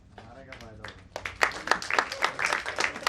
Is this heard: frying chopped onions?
no